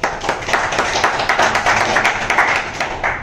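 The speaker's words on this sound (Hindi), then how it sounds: "एक बार ताहिर के लिए जोरदार तालियां भाई" A room of repair trainees gives brisk, loud applause for a student, many hands clapping steadily and close for several seconds with no speech over it.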